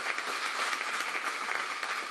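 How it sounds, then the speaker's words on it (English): Soft, distant applause from the audience at a Galveston city council candidate forum, as a steady wash of clapping hands for about two seconds. "Give her a round of applause."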